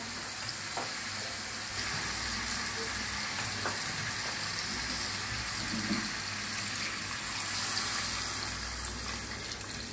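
Meat frying in a pot for a chicken pulao, a steady close crackling sizzle with hissing and faint stirring throughout, and no voices.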